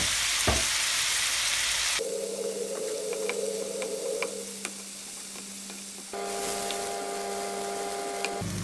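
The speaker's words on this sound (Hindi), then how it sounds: "और इसको हम फ्राई कर लेंगे।" Prawns frying in hot oil for a prawn masala, a steady close sizzle with scattered pops and crackles running the whole time, changing in texture partway through as the prawns are stirred or shifted.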